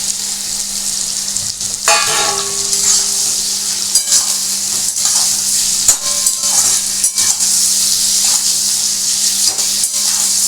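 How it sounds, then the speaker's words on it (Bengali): Pieces of shankar (stingray) fish frying with onion in a pan for a Bengali spicy fish curry, giving a loud, steady sizzle throughout with a few scrapes and clinks of stirring. "এই পেঁয়াজের সাথে আমি মাছগুলোকে খুব ভালো করে ভাজবো"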